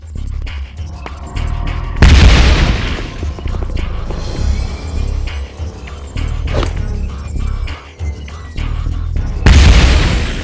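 Grenades explode in the Kill Switch video game: two heavy, loud booms, one early and one near the end, with rumbling gunfire and impacts continuing in between.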